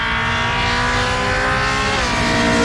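A supercharged LS-engined Mazda RX-8 race car roars in a steady, loud, dense engine note at a roll racing event, holding its pitch before it climbs slightly near the end.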